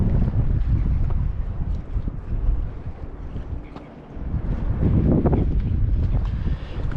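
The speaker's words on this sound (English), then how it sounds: "I think the wind's just starting to come in." Wind gusting over the sea near fishing trawlers and small tinnies, a steady buffeting roar across the microphone with brief lulls and swells, no talking.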